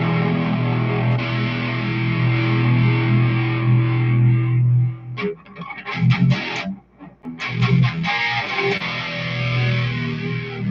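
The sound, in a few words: electric guitar played with distortion effect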